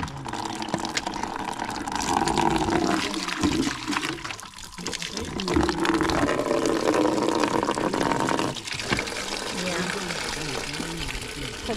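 Water runs steadily into a bucket at a home tap, a continuous splashing gush heard close up, with people talking over it.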